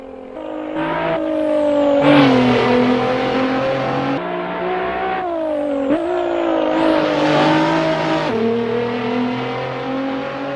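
A Nissan GTR Nismo racing on track in the Assetto Corsa video game, its engine howling loud and close as it climbs through the revs, with distinct pitch drops at each gear shift.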